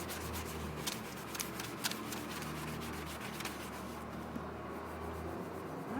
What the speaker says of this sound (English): We're gonna scrub that down nice.